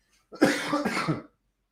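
A single short cough, close and clear, breaking into a couple of rough bursts, with silence before and after.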